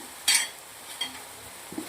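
A spoon scrapes sharply through chilli potato with ground black pepper in a pan, followed by a few faint taps and clinks over a low, steady sizzle.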